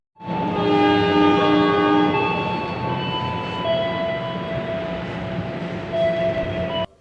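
A train at Kediri station sounds its horn in a long, loud blast that holds steady for several seconds over the rumble of the rails. No one speaks.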